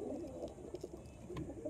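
A pair of pigeons cooing close by, soft low throaty coos repeating in a steady rolling rhythm with no other sounds.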